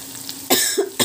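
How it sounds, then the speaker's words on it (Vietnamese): A single person coughs twice at close range in a home kitchen, two sharp bursts separated by a short pause, with a faint voiced sound just before. "nhưng hơi ho rồi đấy"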